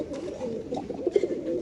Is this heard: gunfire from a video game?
no